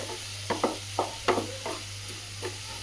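Salted mango pieces sauté in a pan over a soft sizzle, a spoon scraping and stirring in several short, irregular strokes, close and without voices.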